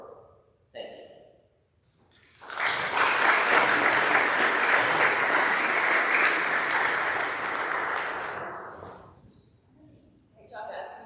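A school audience at eighth grade speeches breaks into loud, sustained applause lasting several seconds before fading, with brief voices before and after the clapping.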